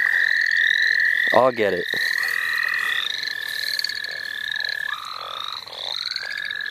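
Chorus frogs call on a spring night at St. Olaf, with loud, close, repeated trilling croaks and whistles overlapping in a steady chorus. A person speaks briefly partway through.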